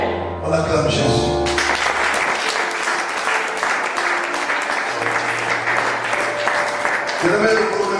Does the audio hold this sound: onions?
no